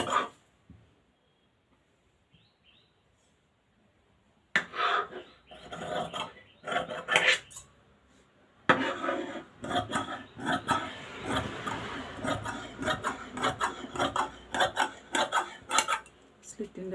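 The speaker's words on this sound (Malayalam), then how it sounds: "നമ്മൾ ഈ മാർക്കിൽ കൂടെ തന്നെ കട്ട് ചെയ്ത് എടുക്കുക." Scissors cut lining fabric along a marked line for a top, giving a faint start, then from about 4.5 seconds on a close, steady run of rasping snips and fabric rustle.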